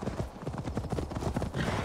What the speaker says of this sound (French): j'ai mon cheval qui me suit, du coup